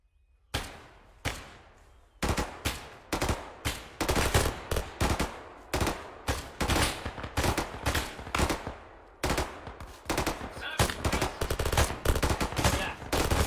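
Rapid gunfire rattles through a squad firefight, with repeated loud bursts and single shots in quick, uneven succession, close and sharp, with no voices heard.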